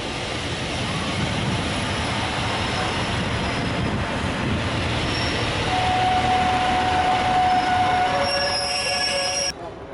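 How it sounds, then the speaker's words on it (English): A Class 142 Pacer train from Leeds passes close by, a steady broad rumble of wheels and engine with a thin squeal rising near the end before it cuts off abruptly; no voices. "A 142 Pacer train from Leeds."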